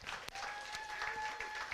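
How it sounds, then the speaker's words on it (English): An audience at a security conference gives a round of applause for an anniversary, brief and fairly quiet, scattered claps with a faint tonal hum beneath. "give a big round of applause"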